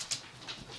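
Dogs whimpering in a home, soft high whines in short separate bursts, faint and fairly close, with no talk over them.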